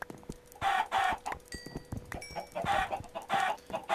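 Chickens in the video game Minecraft cluck in repeated short bursts, several close and clear calls spaced across a few seconds with no talking.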